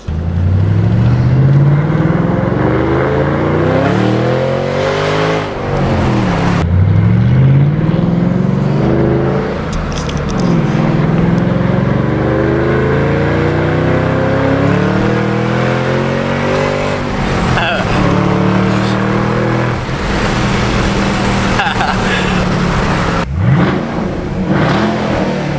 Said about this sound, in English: Outside you can hear the intake.